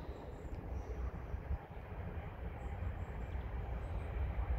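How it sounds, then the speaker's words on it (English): A distant train rolls by, a soft continuous low rumble that swells gradually over a few seconds, faint and steady with no voices. "there's a train going by in the distance"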